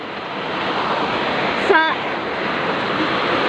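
A typhoon lashes Cavite with strong wind and heavy rain, a dense, constant roaring wash of broadband noise throughout, with a brief voice syllable in the middle.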